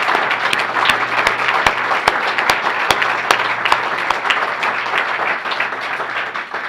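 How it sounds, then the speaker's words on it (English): A large university audience breaks into sustained applause, a dense, steady roar of many hands clapping with a few sharp individual claps popping out above it. "Please give her a round of applause."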